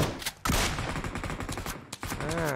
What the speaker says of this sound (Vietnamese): Ngoài kia cũng có tiếng súng bắn nhau kìa